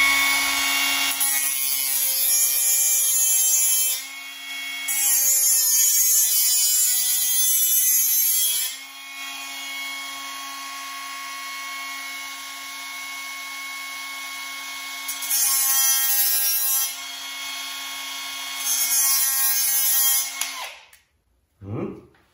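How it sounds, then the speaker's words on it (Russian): A small angle grinder whines at high pitch as it sharpens a blade, with loud bursts of grinding contact rising over the steady motor hum before it spins down at the end. "Берем маленькую болгарку. Офигенно подходит под это дело."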